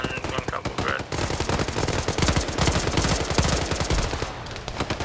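Gunfire in the video game Xenonauts, a Cold War–era America versus aliens ground battle: rapid, loud machine-gun bursts rattle almost continuously, with a brief pause before the firing resumes.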